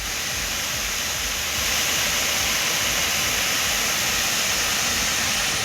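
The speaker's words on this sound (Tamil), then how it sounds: "கோடை மழையால் மலையில் உள்ள பொன்னூத்து அம்மன் கோயிலை ஒட்டிய பாறைகளில் மழை நீர் அருவி போல் கொட்டியது" Summer rainwater pours like a waterfall over the rocks beside a hilltop temple, a loud, steady, broadband roar that holds unbroken throughout.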